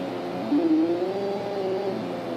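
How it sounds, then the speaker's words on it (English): A small speaker on an RGB light-to-sound board emits a steady electronic tone, with a brief rising, gliding pitch near the start that settles into a sustained hum, fairly close and moderately loud. "You can hear the speaker going off in the background,"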